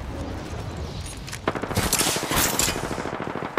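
Rapid automatic gunfire in a battle-royale shooter video game, a dense rattling burst that starts midway and keeps up loud and close, with a couple of sharp single cracks around it.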